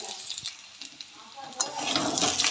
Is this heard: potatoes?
yes